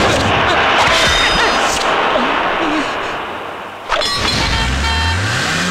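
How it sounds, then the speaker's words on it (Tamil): Heavy vehicle rumble of a lorry pulling in, loud and close, with low engine drone dipping briefly before a rising low-pitched engine sweep near the end, under dramatic film sound and scattered voices. "வேலுத்தம்பி லாரியில கூட்டு வந்துச்சு"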